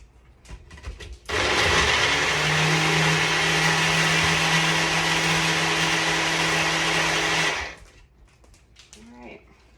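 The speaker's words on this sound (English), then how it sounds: "And then I'm going to blend this up." A blender whirs loudly for about six seconds, blending a strawberry and banana smoothie, with a steady motor drone that starts and stops sharply and a little faint talk before and after.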